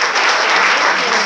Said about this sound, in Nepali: यो ग्रुपको लागि पनि ताली बजाइदिनुहोस्